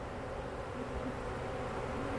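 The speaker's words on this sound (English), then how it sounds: "A lot of angry bees." Agitated honey bees buzz around an open hive during an inspection, a continuous, dense droning hum that stays close and steady without pause.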